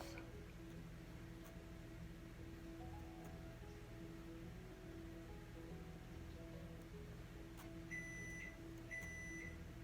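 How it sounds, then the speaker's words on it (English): A kitchen oven timer beeps from across the room near the end, two short pairs of faint electronic tones over a quiet room hum. "You hear my timer going off over there."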